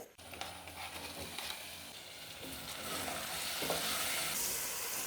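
Tomatoes frying with softened potatoes and onion in a pan, a steady close sizzle with occasional stirring scrapes, growing slightly louder over a few seconds with no talking.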